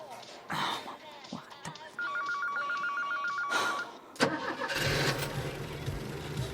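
A car engine cranking and catching near the end, rising into a low steady idle, preceded by a telephone ringing in a regular pattern and some talk in German.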